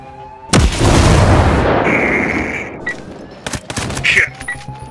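In the shooter game Ghost Recon Breakpoint, a grenade bursts in a loud close blast that rumbles and decays, followed by sharp bursts of gunfire cracking nearby.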